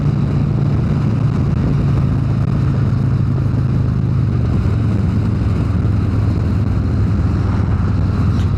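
Harley-Davidson Road Glide motorcycle cruising on the road: a steady, loud, low engine drone with rumbling wind noise, continuous throughout with no talking.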